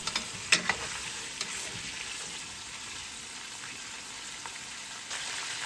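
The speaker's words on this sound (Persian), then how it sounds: "کمی تفت میدیم تا رنگشون برگرده." Pieces of meat sizzle in the bottom of a pot with a steady frying hiss, broken early by a few sharp clinks and scrapes of stirring. A later rustle follows, and no one speaks.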